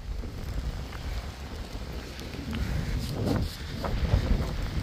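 Strong gusting wind during a storm buffets the microphone outdoors, a steady rough roar with louder surges in the second half.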